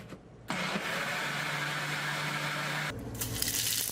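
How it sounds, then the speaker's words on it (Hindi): A kitchen blender runs in one steady, close whir for a few seconds as it blends roasted gram flour and yogurt for Burmese khow suey, starting abruptly and stopping near the end. "अब इसको हम ब्लेंड करेंगे।"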